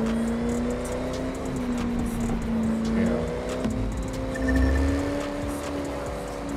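Car driving in the video game The Crew 2 on a road trip from Vegas to Miami, a steady engine hum with gently rising and falling pitch, alone with no talking.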